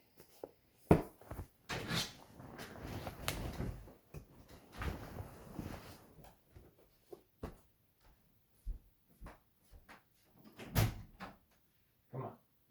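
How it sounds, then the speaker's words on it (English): A dog scratches at a door in short uneven bouts, scrapes and knocks against the wood with brief thuds between them, close by and moderately quiet, with no voices. "She's just going to keep scratching at the door."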